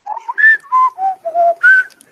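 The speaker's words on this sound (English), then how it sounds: "he starts whistling in this weird, effed up tune" A man whistles a strange, wavering tune alone during a tabletop role-playing session, with a handful of distinct rising and falling notes in quick succession, fairly close and clear.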